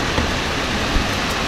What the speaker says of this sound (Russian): О, ничего себе, прям ливень.